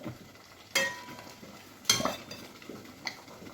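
Asafoetida is dropped into hot oil for tempering a tamarind and gooseberry pickle, giving two short bursts of sizzling with faint stirring and utensil clinks around them, close and otherwise quiet.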